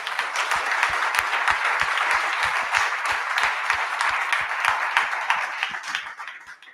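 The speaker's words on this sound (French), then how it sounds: "on peut peut-être faire un petit applaudissement" The audience at a tech meetup applauds the speakers, with a full wash of clapping and one person's loud, evenly spaced claps ringing up close before the sound dies down.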